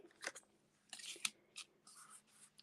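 Scissors snip through paper for a handmade stamped card in a few quick, close, crisp cuts with light rustling, quiet and without any voice.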